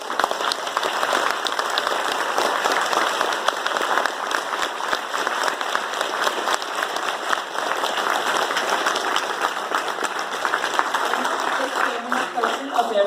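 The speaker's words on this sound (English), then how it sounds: "I request all of you to please give a huge round of applause for Dr." Sustained applause from a large audience for Dr. Subramanian Swamy at IIT Bombay's Mood Indigo festival, dense steady clapping with crowd noise throughout, fairly loud and continuous.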